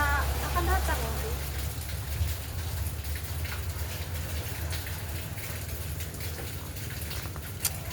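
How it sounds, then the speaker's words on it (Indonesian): Steady rain falls in dark, gloomy weather, a constant patter and wash of drops close by with a low rumbling undertone, continuing evenly throughout with no talk. "cuacanya gelap, gulita, hujan"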